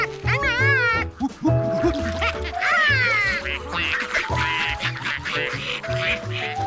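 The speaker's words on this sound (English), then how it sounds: "Feed the ducks." Cartoon ducks quack loudly and repeatedly, several bright calls overlapping with other busy animated sounds.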